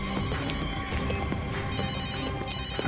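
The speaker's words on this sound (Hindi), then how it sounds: "सर घंटी बज रही है।" A mobile phone left inside a car rings with a repeating electronic tone pattern, heard close and steady under a busy musical backdrop for a few seconds.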